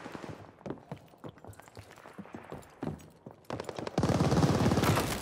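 Bursts of video game gunfire crackle through a team deathmatch, scattered single shots and short rattles at first, then a loud sustained automatic burst in the final second.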